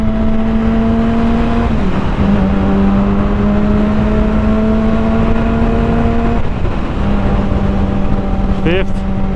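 A Yamaha R6 sport motorcycle engine runs at a steady held rev, dipping briefly twice and recovering, loud and close with a constant droning tone.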